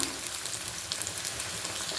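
Sliced shallots fry in hot oil for a Palakkad-style varapuli curry, giving a steady close crackling sizzle with small irregular pops throughout, no voices.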